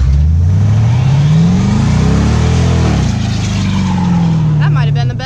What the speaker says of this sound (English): I'm gonna see if Teddy will spin a tire over, maybe.